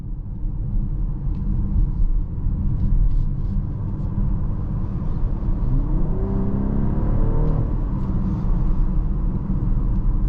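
A 2024 BMW X6 40i pulls through corners with its engine rumbling steadily, rising in a revving surge midway as it accelerates out, with low road and tire noise underneath.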